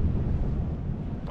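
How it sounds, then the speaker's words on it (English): Wind gusting across the open shore of Shadow Cliffs lake, a steady low roar of buffeting against the microphone with no voices over it. "This wind is picking up a little bit."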